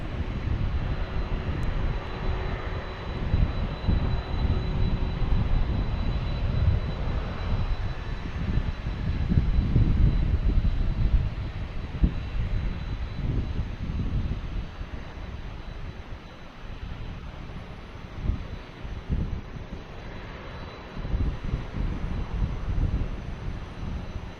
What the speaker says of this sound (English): We have a plane coming in.